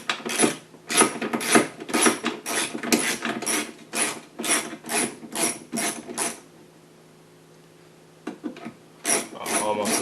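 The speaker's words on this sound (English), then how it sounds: "you're gonna have to get your wrench up here, and then just unscrew it" A hand wrench works a bolt loose on a Mustang rear deck lid in quick rhythmic ratcheting bursts, close and crisp, then pauses briefly before resuming.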